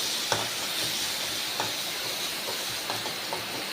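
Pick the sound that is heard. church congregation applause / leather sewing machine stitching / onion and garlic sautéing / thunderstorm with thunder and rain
onion and garlic sautéing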